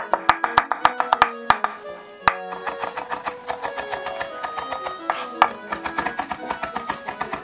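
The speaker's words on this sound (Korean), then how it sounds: "샐러리 곱게 다져서 준비를 해주시고요" A knife finely minces celery on a cutting board for a hamburger patty, giving rapid, steady, close-up taps that run throughout with only brief pauses.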